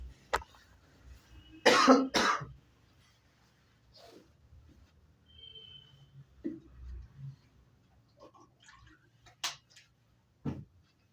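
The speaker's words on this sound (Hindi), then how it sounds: "मेरे को खांसी आ रही है।" A man coughs in a quiet room, a loud burst of two or three harsh coughs near the start followed by fainter throat sounds and a few sharp isolated coughs later, with no talking.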